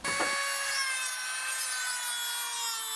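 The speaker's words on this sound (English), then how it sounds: "I just took out this portion right here with the grinder" An abrasive grinder cuts away part of the plastic timing belt shield on a Ford Escort ZX2, giving a steady high-pitched whining grind with a brief rough scrape at the start, close and continuous.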